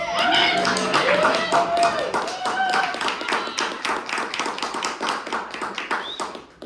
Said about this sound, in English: Y'all can clap if y'all want.